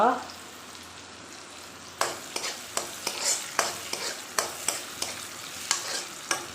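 Onions frying in hot oil for Punjabi-style bread pakora, a bright crackling sizzle starting abruptly, then a steady series of close spatula scrapes and clinks against the pan every half second or so.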